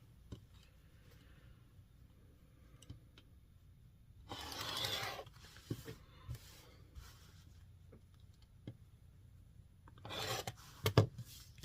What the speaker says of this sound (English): I'll use my rotary cutter because it'll be a cleaner edge